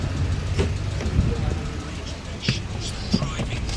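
A Hyundai i10 Grand with a newly replaced AC system runs steadily, a low engine hum under faint clicks and brief knocks, with someone talking over it.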